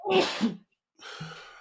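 A sharp, breathy sneeze bursts out close by, then after a short silence a second airy burst follows.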